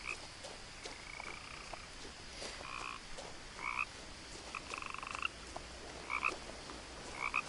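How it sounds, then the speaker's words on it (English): Repeated croaks from a frog in the video game What Remains of Edith Finch, short bursts coming in irregular clusters over a steady ambient hiss, sounding close and fairly prominent. "Where is this goddamn frog? It sounds like it's right in my ear."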